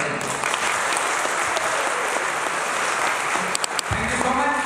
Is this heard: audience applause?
yes